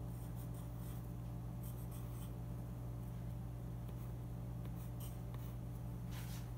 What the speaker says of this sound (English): So I'm going to write a number on my paper.